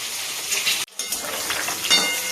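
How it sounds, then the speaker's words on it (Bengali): Eggs fry in a pan alongside tomatoes and onions, a steady bright sizzle close up that cuts out for a split second, with faint clinks of utensils and no talking. "এই দেখো ডিমগুলো সব ভাজা হয়ে গেছে"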